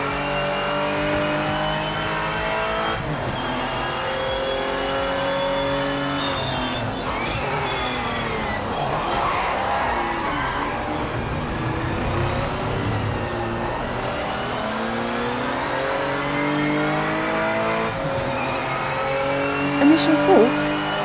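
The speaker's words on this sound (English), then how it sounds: "Watch this when I downshift." Race car engine in the Project Motor Racing video game, revving and shifting down with dropping engine pitch and brief tyre squeal, loud and continuous under a voice talking over the gameplay.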